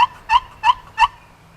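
A wooden turkey box call scraped on its higher-pitched side gives three quick, loud, nasal yelps in an even rhythm, close and clear with no talking.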